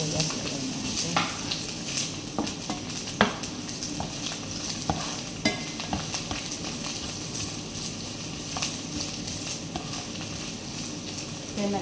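Marinated chicken frying in a pan with garlic and onion for adobo, a steady close sizzle with scattered scraping stirs throughout and no talking.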